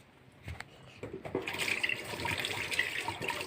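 Water runs from a tap into a sink during washing. A few handling knocks come first, then a steady splashing flow builds and continues at close range.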